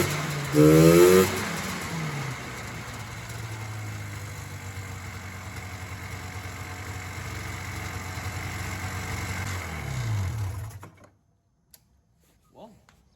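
Old snowmobile engine running after sitting eight years: a steady mid-pitched idle that swells briefly early on, hums evenly, then cuts off near the end, close and fairly loud.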